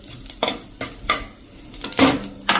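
Cloves, cardamom, dried red chilli and asafoetida sizzle in hot oil for a Gujarati okra kadhi, with soft frying hiss broken by several close spoon scrapes and clinks against the pan.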